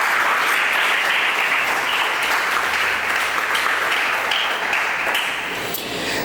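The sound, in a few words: audience applause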